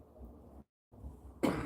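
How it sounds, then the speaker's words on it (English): A single short, harsh cough bursts out near the mic after a brief stretch of quiet room tone, loud against the low background. "Excuse the cough, I've had it a while."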